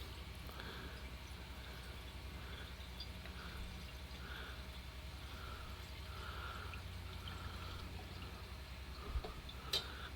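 Fuel is poured from a gallon can into the tank of a Coleman 252 milspec stove. It makes a faint, steady liquid trickle with soft gurgles, then a couple of small clinks near the end.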